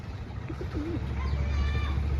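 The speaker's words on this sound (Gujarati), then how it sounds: "આપણું એ આ કબૂતર છે" A pigeon coos softly a couple of times over a steady low rumble of background noise, followed by faint higher bird chirps.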